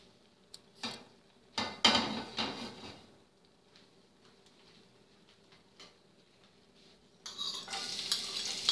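Garlic fries in a little oil in a frying pan, a soft sizzle broken by sharp clinks and scrapes of a utensil against the pan, then a brighter, louder burst of frying near the end.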